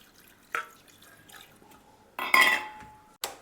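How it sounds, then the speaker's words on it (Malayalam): Water splashes into a pot in a few short bursts, separated by quiet gaps and light metallic clinks. "കുറച്ച് വെള്ളം ഒഴിക്കാം."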